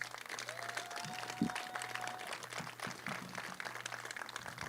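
Quiet, distant applause from an audience at the Aruban Olympic Committee's Paris 2024 send-off, honoring the male flag bearer: a soft, steady clatter of clapping with a few sharper claps.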